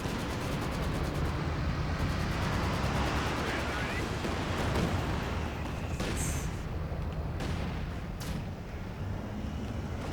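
Mortar shells thumping and bursting in a WWII strategy game match, distant booms and gunfire layered in a steady battlefield rumble beneath continuous commentary.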